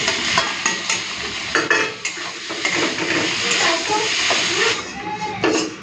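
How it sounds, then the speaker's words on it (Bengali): Shrimp fry in hot mustard oil in a kadai, a close, continuous sizzle and hiss broken by frequent clinks and scrapes of a utensil stirring against the pan. "তো চিংড়ি মাছ ভাজা হয়ে গেছে, তুলে নিচ্ছি।"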